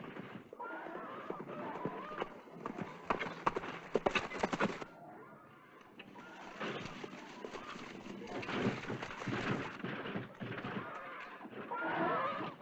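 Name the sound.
horse approaching, hooves clip-clopping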